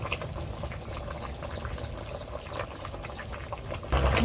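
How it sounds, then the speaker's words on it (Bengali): Fish curry broth with spring onion and potato bubbles in a pan, a steady dense simmering hiss with small pops and no voices. "তরকারির ঝোল ফুটে গেছে"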